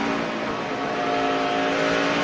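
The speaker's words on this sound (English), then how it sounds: "There goes his engine laying down, Phil." A race car engine at the 2011 O'Reilly Auto Parts 200 roars in a steady, loud, dense drone with a faint higher whine running through it.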